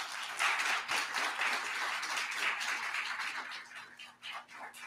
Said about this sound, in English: Can you please applaud for our panelists tonight?